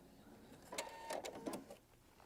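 A Pfaff Quilt Expression 720 sewing machine stitches through layers of denim in a short, faint burst of mechanical whirring and rapid ticking lasting about a second and a half.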